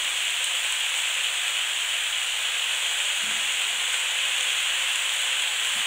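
Salted mushrooms sizzling in a hot wok give a steady, loud hiss of frying that holds evenly throughout with no other sounds.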